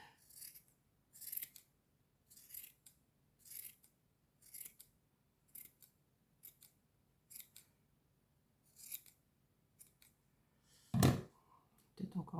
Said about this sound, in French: je continue à couper comme ça jusqu'à temps que j'ai le pompon désiré